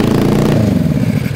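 A Suzuki GS450 motorcycle engine fitted to a lawn mower build cranks and sputters loudly up close, a rough low mechanical churning that fades slightly toward the end.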